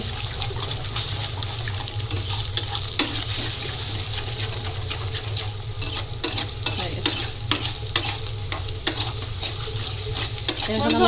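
Egg is stirred and crumbled in a steel frying pan, giving a continuous sizzle broken by frequent sharp scraping clicks of the utensil against the pan, close and fairly loud.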